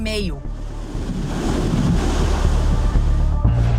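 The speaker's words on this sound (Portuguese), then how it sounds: "O mar revolto bateu forte e invadiu cidades." Rough seas whipped up by Hurricane Ian pound the Florida coast, with loud, continuous crashing surf and heavy wind gusting against the microphone.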